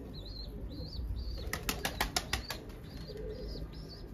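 A burst of rapid wing flaps from a bird jumping over a coop beats five or six times in quick succession, with faint chirps and background bird calls around it.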